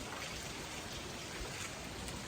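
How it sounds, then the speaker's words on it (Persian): Steady, dense hiss of rain falling, continuous and even throughout with no other sounds standing out. "صدای بارون رو میشنوی؟"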